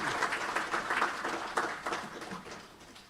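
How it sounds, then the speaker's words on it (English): An audience applauds the Honorable Governor at a central bank capital market launch in The Gambia, a steady round of moderate clapping heard from a distance in a hall. "let's give another round of applause to the Honorable Governor"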